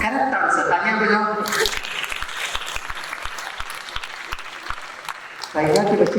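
Brief clapping from an audience at a talk on happy and healthy living, sitting between stretches of amplified speech, with sharp individual claps standing out amid a moderate patter.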